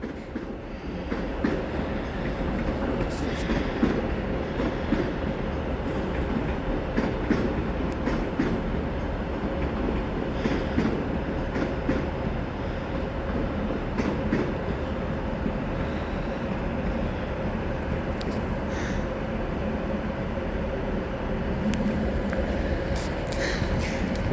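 A Class 397 train, unit 397011, arriving at Carlisle station rolls in with a long, steady mechanical rumble and rail noise. It holds a constant level for the whole stretch, with faint higher clicks and no voices.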